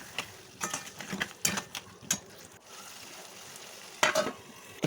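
Crab curry masala mixed with yogurt is stirred in a pan, irregular close scraping and clattering strokes over a low simmering sizzle, with a pause before a final burst of stirring.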